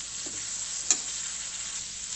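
Sprouted moth beans sizzle steadily in a hot pan while being stirred, giving a constant close hiss with one small clink of the spoon.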